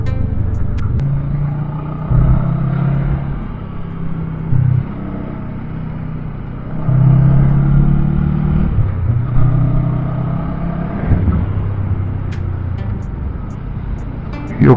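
A Honda Rebel 500 motorcycle rides through corners on twisty roads, its engine rumbling steadily and close, with the pitch rising and falling as the rider rolls on and off the throttle.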